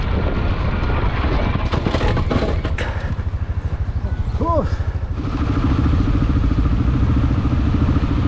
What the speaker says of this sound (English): Okay, so we managed to get Brian's bike going